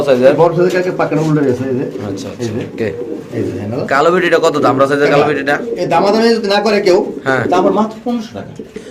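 Male pigeon cooing in rounded, repeated phrases throughout, loud and close, from a white beauty pigeon kept for sale.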